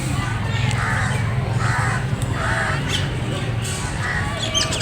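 Crows gathering to be fed bread caw repeatedly in a loose rhythm of four or five calls, at moderate distance over a constant background hum.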